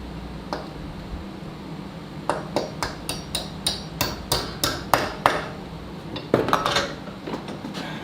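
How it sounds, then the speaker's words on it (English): A shim is hammered in from above on a workbench where marking knives are made, a steady series of about a dozen sharp metallic taps, close and fairly loud, ending in a quicker cluster of strikes. "I'm going to have to hammer it in from above."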